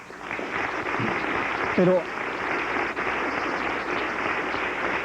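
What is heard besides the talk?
audience applause for panelists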